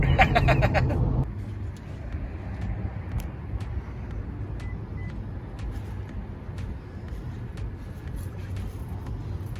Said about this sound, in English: I'm going to shut up and drive